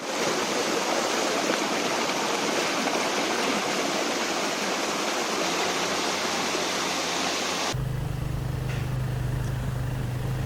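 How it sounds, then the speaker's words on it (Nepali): Water from a small waterfall beside a mountain road in Nepal pours in a steady, loud broadband rush that continues without a break, then changes abruptly to a duller roar with a low hum. "यहाँ एउटा बाटोमा ठ्याक्क झरना पनि आउँछ है सानो छ"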